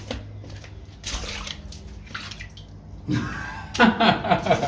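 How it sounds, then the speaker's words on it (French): Flowing, splashing water near a chapel in Guatemala, a steady close wash that swells louder toward the end, with faint voices in the background. "Donc en fait ici il y a de l'eau"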